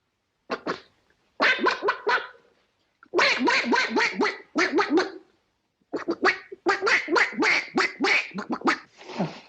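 A man imitates a duck, quacking in rapid bursts of raspy, nasal honks, several runs separated by brief pauses, close and clear.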